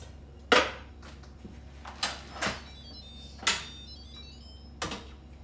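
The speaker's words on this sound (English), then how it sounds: "it's safe to open your Instant Pot" Metal lid of an Instant Pot pressure cooker being handled and opened after making chicken bone broth, a few sharp clanks and clicks spaced apart over a low steady hum.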